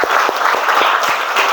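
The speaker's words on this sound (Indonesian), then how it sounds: "tepuk tangan untuk kita dulu." Classroom applause from a group of high school students, a short burst of quick, dense clapping with a few louder claps standing out, close and steady throughout with no voices.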